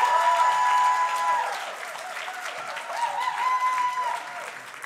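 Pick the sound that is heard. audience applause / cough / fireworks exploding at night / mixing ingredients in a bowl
audience applause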